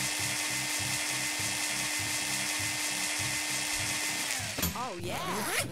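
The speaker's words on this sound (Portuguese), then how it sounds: "Porra, é furadeira lá, furadeira aqui." Power drill whirring in the SURV1V3 VR game, a loud, continuous pulsing motor drone that holds steady for several seconds and then winds down, with a voice briefly heard near the end.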